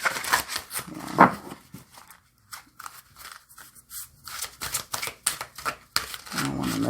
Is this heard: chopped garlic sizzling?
no